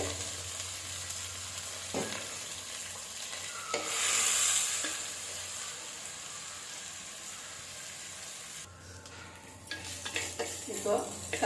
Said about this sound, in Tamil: அந்த கத்திரிக்காயும் அது கூட போட்டு நல்லா வந்து வதக்கிக்கலாம் நம்ம